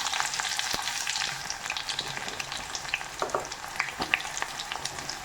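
Shallots sizzle in hot sesame oil with mustard seeds and fenugreek, a steady close frying hiss dotted with sharp crackles and pops.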